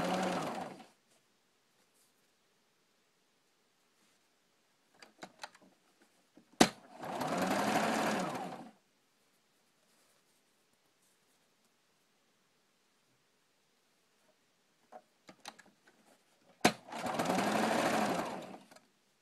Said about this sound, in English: being careful not to sew the first row into this new row. Just going to do another row of triangles right next to it.